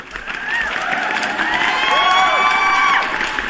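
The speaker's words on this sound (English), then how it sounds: "Let me give you a round of applause." A canned applause and cheering effect plays on a livestream, with a crowd whooping and clapping in a swelling burst that fades out near the end.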